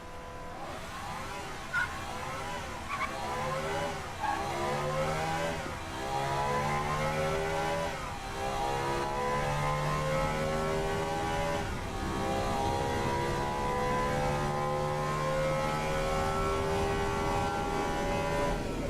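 A virtual hatchback's engine revs steadily and climbs through the gears on the Top Gear test track in Automation, a continuous loud mid-pitched drone with rising and falling pitch sweeps and no one speaking.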